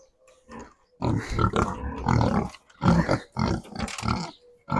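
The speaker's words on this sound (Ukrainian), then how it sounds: "Що це таке за порося?" Piglets grunt and snort in a series of rough, close bursts, with short pauses between the noisy outbursts.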